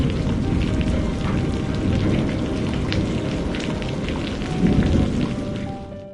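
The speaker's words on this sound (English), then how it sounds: "and that is the first rain." First monsoon rain after a hot summer, falling steadily as a dense, even hiss of drops on surfaces, close and continuous.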